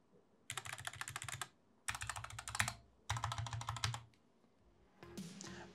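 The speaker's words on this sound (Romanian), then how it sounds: "Iar o tastatură mult mai scumpă, dar folosită ceva timp, sună așa." An expensive, used, stock computer keyboard being typed on in three fast bursts of close, crisp key clatter with brief pauses between, then a short final rattle.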